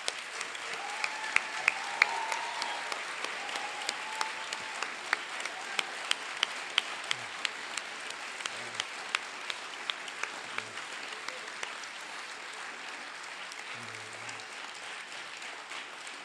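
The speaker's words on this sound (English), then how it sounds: "So could I ask a round of applause for him," Audience applause at a memorial gathering for Stavros Naxakis, a steady spread of many hands clapping that holds at an even level for the whole stretch, moderately distant and without voices over it.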